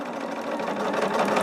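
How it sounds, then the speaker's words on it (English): Sewing machine running steadily and close by, a continuous rapid mechanical whir as it stitches printed quilt squares to white fabric, with no talking over it. "sew them together with that white fabric"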